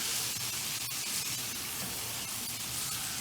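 Chicken meat and spices roast in a hot pan with a dense, continuous sizzle and occasional stirring scrapes, close and steady, with no voices.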